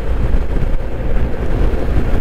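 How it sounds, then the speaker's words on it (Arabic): Strong wind roars steadily against the microphone, a dense rumbling rush with no pauses, loud and close. "هذه الاجواء رياح شديدة"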